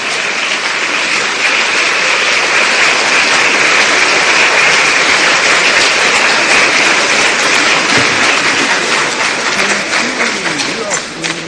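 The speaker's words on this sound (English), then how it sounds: "A round of applause," Audience at a Ghanaian state-of-education event applauding the Minister for Education, sustained dense clapping from a large crowd with voices mixed in throughout.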